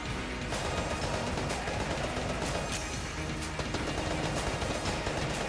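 Rapid bursts of gunfire from the video game Enter the Gungeon crackle continuously in dense, fast volleys at a moderate level, with no speech.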